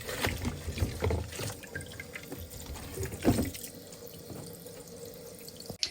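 Running tap water splashes and trickles in a sink while frozen kaski fish is washed and soaked, with intermittent handling clatter, close and fairly quiet.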